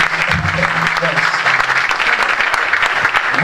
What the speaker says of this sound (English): Clap your hands for this man.